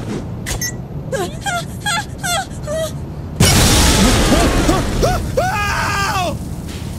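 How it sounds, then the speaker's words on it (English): A deep, heavy explosion in Saints Row 3 bursts in partway through, loud and rumbling, amid a busy mix of squeals, warbling effects and noisy background. "Did get some really cool explosions though"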